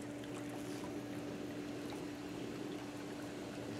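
Hot tub spa pump circulating water, a steady low churning wash with a constant mechanical hum underneath, faint and unbroken.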